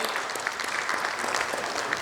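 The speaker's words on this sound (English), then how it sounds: "A big round of applause to Mr. Tripathi." Panel audience applauds as a managing director and CEO joins a finance industry panel, a steady, even patter of many hands clapping throughout.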